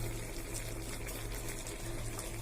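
Tamarind water pours into a pan for a sweet-and-sour eggplant dish, a continuous close splashing, gurgling flow lasting a couple of seconds.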